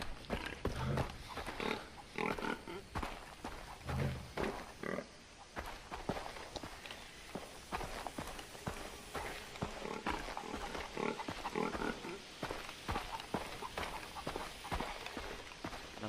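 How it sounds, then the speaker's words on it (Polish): Pigs grunting in the video game Far Cry 3, a busy, continuous stretch of snorts and grunts mixed with footsteps and movement sounds throughout, fairly close and steady with no talk over it. "słyszę te świnie."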